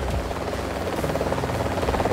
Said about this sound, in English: there was this helicopter buzzing around. I don't know if you've ever heard an Apache helicopter, but they've got a really distinct sound